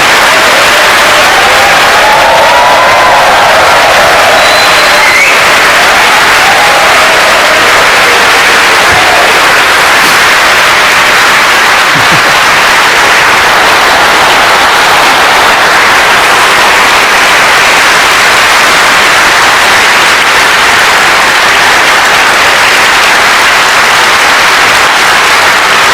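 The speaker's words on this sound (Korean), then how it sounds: "박수로 축하해주시기 바랍니다." Sustained applause from a church congregation at a pastor's installation ceremony, a dense, loud wash of clapping that fills the whole stretch without a break.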